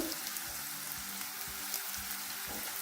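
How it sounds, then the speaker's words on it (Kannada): Chopped onion frying in a pan, with a soft, steady sizzle and irregular light scraping or stirring knocks throughout. "ಈರುಳ್ಳಿ ಕಟ್ ಮಾಡ್ಕೊಂಡಿರೋದು ಹಾಕ್ಕೊಂಡಿದ್ದೀನಿ."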